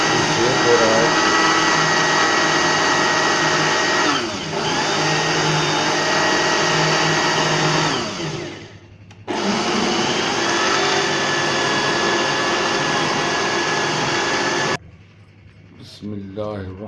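A loud electric machine churns cream into homemade butter, a steady close motor drone that dips twice, then cuts off near the end, leaving quieter room sound.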